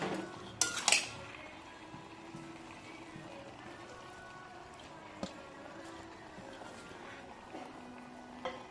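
A lid clatters loudly onto a pot of Bengali bagan chorchori vegetables with beetroot on the stove, a couple of close metallic knocks followed by quiet simmering and faint utensil taps.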